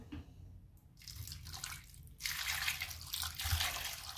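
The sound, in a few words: water poured into pot of drumsticks for boiling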